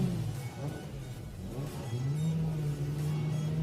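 Formula Libre race cars revving at the start of a race at Killarney, with loud, continuous engine roar and rising revs close by, no voices heard.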